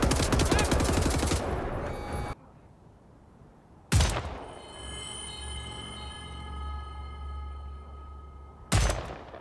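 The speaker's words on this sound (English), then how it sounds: "I thought they were good weapon sounds as well, very solid sounding and a good variety to go with the range of different weapons available." Weapon gunfire in the first-person shooter Wolfenstein The New Order: a dense burst of rapid automatic fire, a sudden loud blast followed by a lingering ringing tail, and another sharp shot at the end, loud and close.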